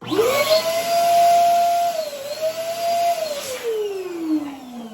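An electric pump inflates craft balloons for a Halloween project, its whining motor rising into a steady tone that dips once, then slowly falls in pitch as it winds down, close and loud with no talking.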